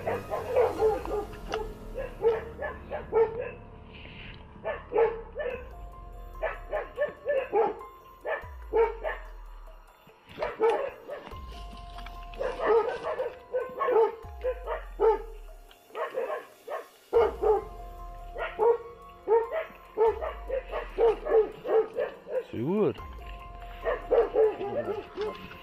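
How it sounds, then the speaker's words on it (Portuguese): Dogs bark at night outdoors during a search, with repeated yipping and bow-wow bursts at moderate distance, recurring in clusters while people murmur and talk quietly nearby. "Os cachorros estão bem aí, assim."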